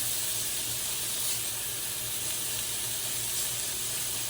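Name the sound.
chicken searing and sizzling in a pan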